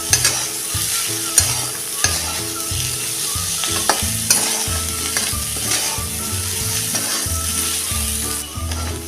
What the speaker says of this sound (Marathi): आता ही भाजी आपण एकसारखी परतून घेऊया